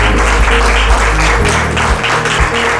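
Attendees at a direct-selling career opportunity program give a speaker a very loud, close burst of applause, heavy with low rumble and sustained without a break.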